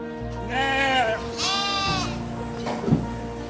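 Sheep on a farm give two long, wavering bleats close by, one after the other, followed by a brief soft thump.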